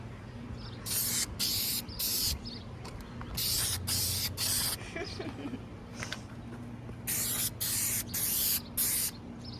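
Short hissing bursts of a spray gun applying clear coat to plastic car trim repeat in quick groups of two to four, with a low steady hum between them.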